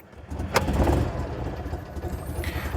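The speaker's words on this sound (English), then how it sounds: "So I'm going to put her in gear to start her up." An Invacar engine is put in gear and started, giving a brief sharp crank at the start, then a steady low idle running near and alone, with no talking.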